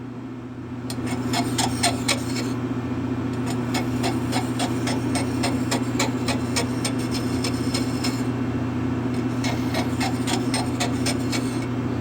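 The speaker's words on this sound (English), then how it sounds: "take this file and just skim right across it" A hand file skims burrs off a steel shaft spinning at about 200 RPM on a lathe. The rasping is steady and rhythmic, with repeated strokes over the motor's constant hum, close and fairly loud.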